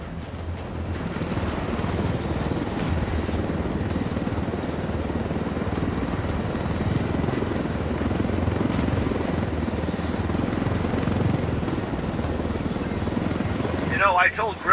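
A helicopter in the Ghost Recon Wildlands game, its rotor and turbine giving a steady, loud, continuous drone that runs the whole way with no break.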